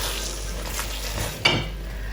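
Seasoning cubes being stirred into a pot of beef and vegetable jollof rice, a steady sizzle with soft spoon scrapes and one sharper clink against the pot.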